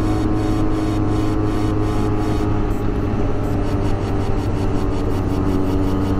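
A group of Benelli motorcycles rides together on the road toward Karjat, a loud, continuous engine drone and rumble with steady wind noise, close and unbroken throughout, with no talking.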